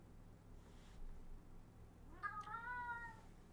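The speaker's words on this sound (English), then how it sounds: "Now we've upset the cat." A cat gives a single drawn-out meow, clear and fairly close, over quiet background hum with no talking.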